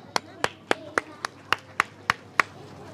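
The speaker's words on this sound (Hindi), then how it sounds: "जोरदार तालियां।" Rhythmic clapping at a school inauguration in Jaipur, about nine sharp, evenly spaced claps in a steady beat, close and distinct, with a low murmur between them.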